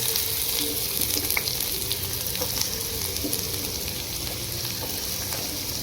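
Onions fry in a pan as the base for a bottle gourd curry, giving a steady, close sizzle with faint crackles and occasional stirring throughout, with no talk over it.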